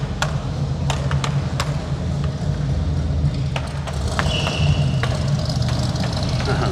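Truck engine idling in Roseburg, Oregon, a steady low rumble with scattered sharp clicks and taps on top, moderately close.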